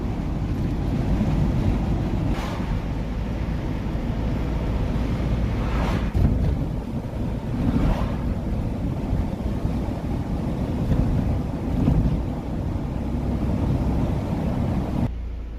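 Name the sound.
van driving on the road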